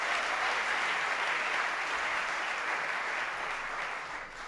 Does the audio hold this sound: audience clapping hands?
yes